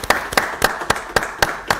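Slow, steady handclaps, about seven evenly spaced sharp claps over a couple of seconds, sound like a small group clapping for a singer at a live show.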